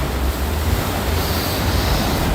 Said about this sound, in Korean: 우리는 쉬지만은 바다는 한 번도 쉬지 아니하고 출렁이면서